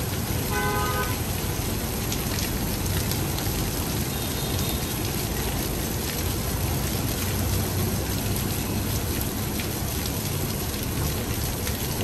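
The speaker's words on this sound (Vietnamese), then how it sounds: "Mưa khá là to luôn á, đang ảnh hưởng áp thấp nhiệt đới." Heavy tropical-depression rain pours at night over a street intersection in Nha Trang, a dense, steady hiss that never lets up, with faint passing traffic and a brief car horn near the start.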